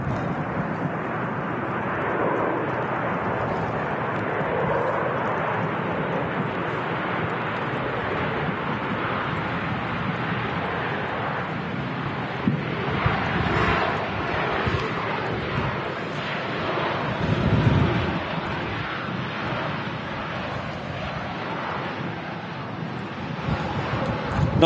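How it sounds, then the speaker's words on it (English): A Pegasus Boeing 737 airliner rolls along the runway at Manchester Airport, with a steady, loud jet engine roar mixed with wind buffeting the microphone that holds throughout and swells slightly near the end. "Not in a rush to exit the runway there, the Pegasus 737."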